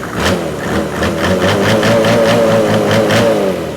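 Mercedes OM606 diesel engine revving with an uneven, stumbling misfire from a stuck injector, a loud, close, steady run with rhythmic pulses throughout.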